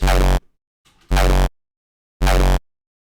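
A Frenchcore kick drum synthesized in Serum with just an EQ and a square wave hits three times, each a loud, sustained, heavily distorted thump with rich tonal body, separated by silence and a faint stray sound.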